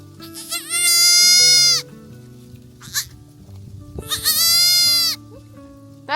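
Two loud, drawn-out goat bleats, each lasting close to a second, separated by a short pause with quieter rustling and a brief faint cry between them, from a young goat in rural China.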